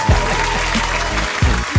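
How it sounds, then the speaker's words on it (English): Applause from a group during a radio show, a dense, steady wash of clapping that runs throughout the short clip. "Yes, clap that up."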